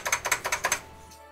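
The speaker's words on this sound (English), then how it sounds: "Sorry, that's my keyboard." Quick burst of typing on a computer keyboard, about seven close, crisp key clicks in uneven rhythm, then quiet.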